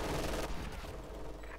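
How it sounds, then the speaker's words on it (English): A heavy machine gun in Company of Heroes 2 fires a dense, rapid burst of battle gunfire that continues through the short stretch with little pause. "heavy machine gun firing as well"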